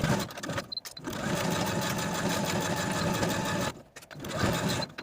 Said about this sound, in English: we're going to take it to the sewing machine and sew the placket to the front bodice from top to bottom